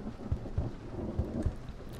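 Thunder and rain ambience in a horror game about rats in the walls, a quiet steady rainfall with several soft low thumps of distant thunder in close succession.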